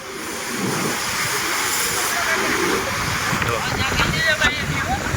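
Stormy sea surf pounding the shore at Mahuva lighthouse beach, a continuous loud roar and hiss of breaking waves with gusting wind buffeting the microphone.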